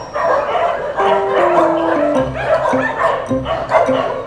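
Several dogs bark, yip and whimper in overlapping bursts at an animal shelter, close and loud throughout, with a few stretches of a steady tonal whine running beneath.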